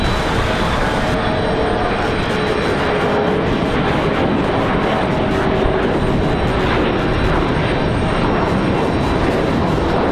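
An airliner takes off at a windy airport on a short flight to Roanoke, its jet engines giving a loud, steady roar throughout with gusty wind noise blended in.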